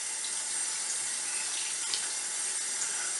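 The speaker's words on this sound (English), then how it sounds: "We start with a thorough rinsing of the hands." Tap water runs steadily over hands being rinsed at a sink, a continuous soft hiss and splash without talk, fairly quiet and close.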